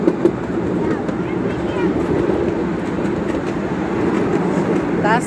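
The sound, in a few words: Old Smoky train ride at Knoebels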